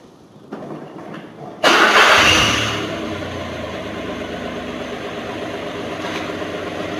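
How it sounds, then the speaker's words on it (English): A car engine cranks briefly, catches with a loud burst and settles into a steady idle, heard close up in a workshop where the vehicle is being tested for its CAN bus signals, with no talking. "we're going to start the car up"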